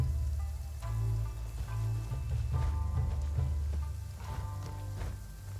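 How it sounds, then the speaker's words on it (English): Rain falls in a video game, a soft steady patter under quiet tonal background music, fairly faint and continuous throughout. "No, it's raining!"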